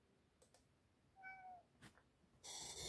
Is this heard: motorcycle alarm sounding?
no